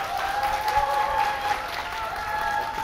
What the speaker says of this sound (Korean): 우리 안철수 대표님이 주사위 던질 때 큰 박수 좀 보내주시면 좋을 것 같습니다.